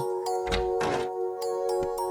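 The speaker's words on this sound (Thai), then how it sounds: "เธอเคาะประตูเพราะเธอเหนื่อยและต้องการพักสักหน่อย" Knocks on a small cottage door in a storybook sound effect: several dull wooden thunks in an irregular series, over a steady soft musical tone.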